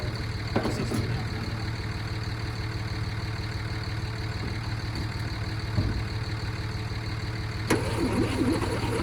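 An old military ambulance engine cranks and tries to start, its starter churning in a steady rumbling rhythm that stays close and loud, with a couple of brief surges but no clear catch.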